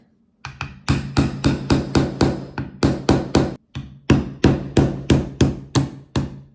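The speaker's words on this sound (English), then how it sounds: "I do have this little hammer right here." A small hammer taps rapidly and steadily on metal while fitting a Timney trigger into a PSA Dagger 9mm pistol, about twenty sharp close strikes in quick rhythm with one brief pause, no talking.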